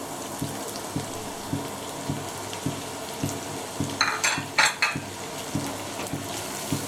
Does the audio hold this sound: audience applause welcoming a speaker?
no